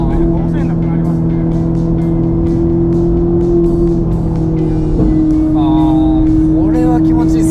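A Ferrari 458 with an aftermarket Power Craft exhaust: a loud, steady high-pitched engine drone from inside the car, with a brief shift in pitch partway through, while people talk over it.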